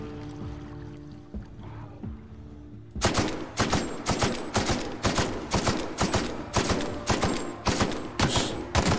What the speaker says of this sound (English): Just take a few shots here.